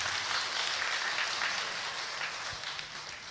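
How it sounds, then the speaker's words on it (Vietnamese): Sustained audience applause at a Vietnamese talk with runner-up beauty queen Phan Quỳnh Ngân, a steady dense wash of clapping holding level for several seconds before easing slightly. "Các bạn tràng vỗ tay đi các bạn."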